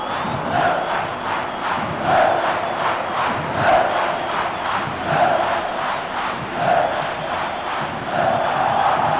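Football stadium crowd at an Atlético Mineiro versus Cruzeiro Brazilian league match in 1999, a loud, massed chant rising and falling in a steady rhythmic pulse, with a distant announcer's voice faint beneath.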